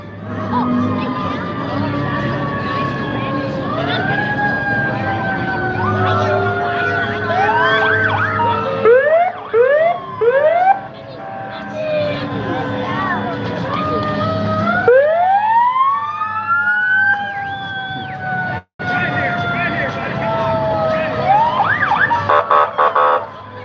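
Volunteer fire department engine sirens in Custer wail and rise repeatedly, overlapping as the vehicles pass nearby, loud and sweeping, with voices faintly underneath.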